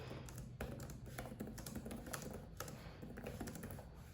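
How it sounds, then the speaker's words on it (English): Rapid, steady clatter of keys being typed on a Surface Laptop Go 2 keyboard, close up, continuing throughout with no voices. "The keyboard especially is very nice to type on."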